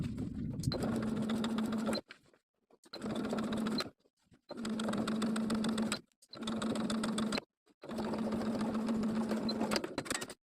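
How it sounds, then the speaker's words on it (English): Sewing machine stitching in the ditch along the outside seam of a tiered maxi dress: five steady runs of fast, even stitching with brief stops between them, close and clear with no voices. "I'm going to stitch in the ditch of the outside seam all the way around."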